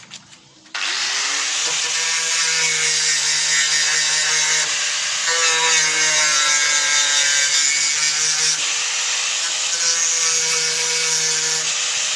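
Power sanding on a car body during rust-hole repair, a loud steady droning whir with a grinding texture that starts after a brief pause and runs continuously.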